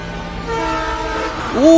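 A train rumbles steadily in a movie scene, then a loud horn blast cuts in at the end, close and dominant.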